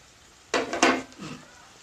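A mustard, poppy seed and green chili paste with turmeric is stirred in a pan, giving two quick close scraping strokes followed by a softer third, then quiet.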